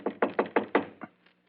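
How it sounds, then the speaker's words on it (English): Five crisp, evenly spaced knocks on a shop door, followed by a sixth softer rap, close and distinct against a quiet background. "So, just to please you, I will knock on the door."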